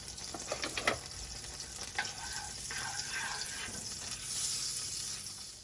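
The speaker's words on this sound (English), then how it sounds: "So to my skillet here, I'm gonna add in a spoonful of butter and some vegetable oil." Butter and vegetable oil heat in a skillet, giving a soft, faint sizzle with a few light clinks early on, ahead of sautéing onions for shrimp in chipotle salsa.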